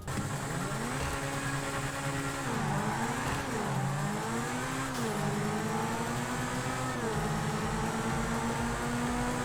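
Pegassi Zentorno, an all-wheel-drive supercar in GTA 5, races with a loud, steady engine drone whose pitch climbs and dips through gear changes and throttle shifts, close and continuous throughout.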